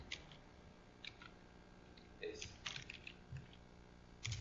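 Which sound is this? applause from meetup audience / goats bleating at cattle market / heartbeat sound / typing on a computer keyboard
typing on a computer keyboard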